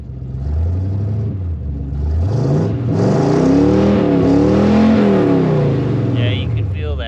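A 1968 Ford Thunderbird with a 429 Thunderjet big block V8 and a newly fitted exhaust revs up in a deep, throaty rumble, rising and falling through several close, loud pulls before settling back toward idle.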